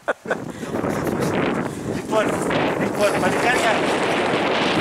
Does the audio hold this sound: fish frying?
no